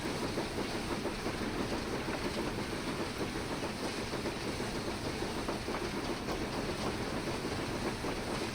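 Steam locomotive in a train simulator game running at full regulator and full reverser on the Ayr Line in western Scotland, a continuous dense chugging rumble with rapid rhythmic clatter, steady and loud throughout.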